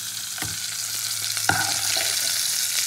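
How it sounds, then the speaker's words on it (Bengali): Potato pieces frying in hot oil, reused after frying cauliflower for a Bengali vetki fish curry, give a steady close sizzle with occasional sharp clinks of a utensil stirring in the pan. "তো একই তেলে আলুগুলোকেও ভেজে নেবো"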